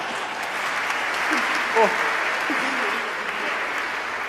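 A congregation at a church mass celebrating jubilees breaks into sustained, moderate applause, with a few brief voices exclaiming over the clapping.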